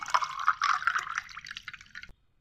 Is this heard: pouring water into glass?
yes